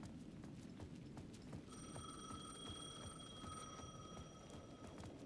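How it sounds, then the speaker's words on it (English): A payphone at the edge of a plaza rings in Alan Wake 2, a sustained electronic bell tone lasting several seconds over a low, murky ambient backdrop with faint rhythmic knocking. "The payphone at the edge of the plaza was ringing again."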